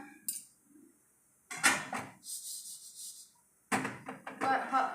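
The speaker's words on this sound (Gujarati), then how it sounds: "લોયું ગોળ ગોળ ફેરવતા રહેવાનું" A wok with caramelizing sugar scrapes and rattles against the stove as it is swirled round, in two bursts of metallic clatter separated by a quiet pause, close and moderately loud.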